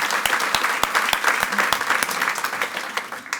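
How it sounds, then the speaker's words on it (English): Applause from the crowd at a school board meeting, a dense, steady wash of clapping with a few sharp individual claps standing out, filling the room for a few seconds before thinning slightly at the end. "Let's give her another round of applause"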